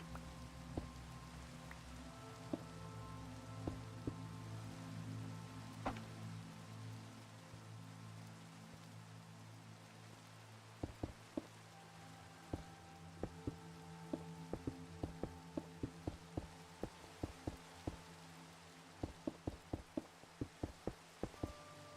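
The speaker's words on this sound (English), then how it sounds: "That's some really loud rain if I can hear it through the window." Heavy rain drums against a window in a Minecraft world, making a steady muffled wash. Sharp, irregular drip-like ticks and taps are scattered across the second half.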